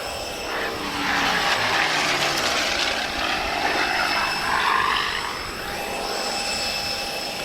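A Supermarine Spitfire propeller plane flies an airshow display, climbing overhead with a steady, broad engine roar that swells and eases slightly as it passes, distant rather than close.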